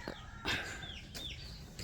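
Rhode Island Red and Black Australorp hens cluck and chirp softly outdoors in a farmyard, a few short, faint calls scattered over a quiet background.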